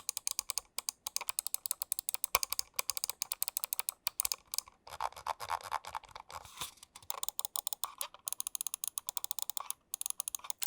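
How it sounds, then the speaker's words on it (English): Crisp, rapid clicking from a G-Wolves Hati gaming mouse, its main and side buttons pressed in quick bursts along with ratcheting scroll wheel ticks, close and dry with short pauses between runs and no talking. "the side buttons have the perfect size, and they click, and it just sounds so good"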